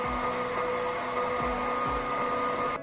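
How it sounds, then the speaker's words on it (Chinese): A hot air station blows steadily while soldering a GPU core onto an RTX 2080 Super graphics card during board-level repair, giving a close, continuous whooshing hiss with faint low knocks and no talk. "开始焊接核心了。"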